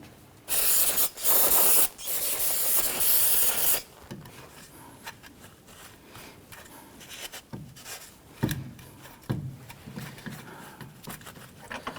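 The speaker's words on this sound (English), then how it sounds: "Before you reassemble, go ahead and give this a spray," An aerosol can hisses in three loud, steady bursts onto a 2017-2020 Hyundai Elantra rear wheel bearing and hub assembly, followed by softer rubbing and handling noises.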